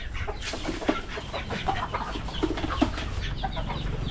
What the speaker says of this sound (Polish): Kurki, ale lecą.